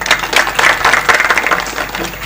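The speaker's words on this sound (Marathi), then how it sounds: "एकदा तुकाराम भाऊ करता टाळ्या वाजवा." A kirtan audience breaks into loud, close, dense applause, many hands clapping together in a steady burst that lasts the whole moment.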